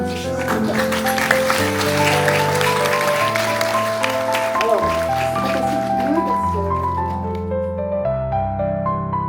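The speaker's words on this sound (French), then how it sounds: "On peut vous applaudir." An audience applauds at a gala where children's dreams come true, scattered clapping mixed in with loud, sustained music that carries on and fades toward the end.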